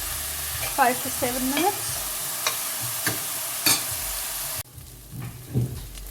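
Onions, ginger, garlic and chili frying in a pan for a chicken sukha curry, a steady sizzle broken by several scraping stir strokes, with a few brief spoken words over it before the sound drops away.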